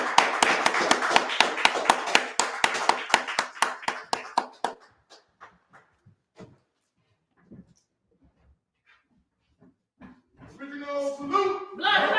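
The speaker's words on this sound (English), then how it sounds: "Everybody stand to your feet and give a round of applause for our founder." A standing audience applauds its founder at a Black power lecture, with a burst of loud rhythmic clapping that thins out into scattered claps and near silence, then a raised voice at the end.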